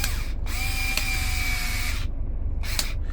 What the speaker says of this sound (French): Ici, moi, je prends la petite visseuse.